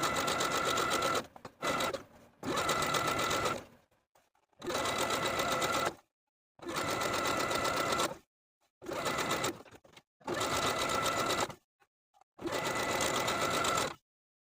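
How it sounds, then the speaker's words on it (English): Sewing machine topstitching stretched elastic with a 3-step zigzag stitch, running in loud close bursts of one to two seconds separated by short silent pauses, no talking. "We're going to top stitch once again along the opposite edge of the elastic, once again stretching the elastic and using a 3-step zigzag"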